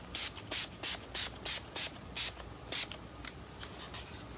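Spray bottle lightly misting water onto chalk-painted furniture, giving about eight short, even hissing bursts in steady rhythm, close and moderately loud, with no talking.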